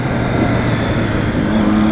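A 2014 Triumph Street Triple motorcycle engine drones steadily under load in a low gear, a close, continuous hum with faint wind noise.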